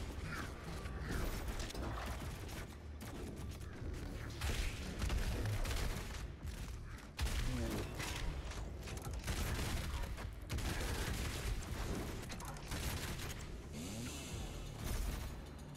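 Doom Eternal combat plays on low settings, a steady dense barrage of gunfire, mechanical clanks, ratcheting weapon sounds and impacts, fairly quiet overall with no talk.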